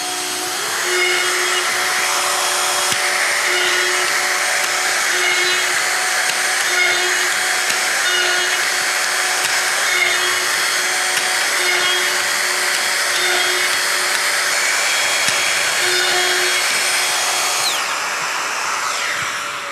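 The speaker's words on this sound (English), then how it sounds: "And now I am again starting with my first drill hole." A Festool power drill boring a row of holes with the LR 32 multi boring system whirs continuously at close range, a steady high-pitched motor whine that holds for the whole stretch with no talking.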